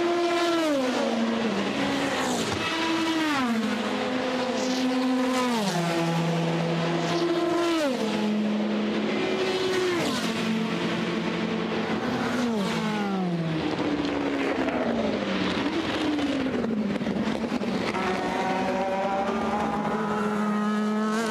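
A race car at the 24 Hours of Le Mans spins out on the circuit. Engine pitch climbs and drops again and again through loud gear changes and revs, ending in a blurred, wavering roar.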